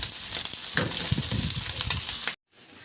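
Onions sauté in a hot pan with pork liempo. A close, dense frying sizzle with stirring runs continuously, then cuts off abruptly near the end.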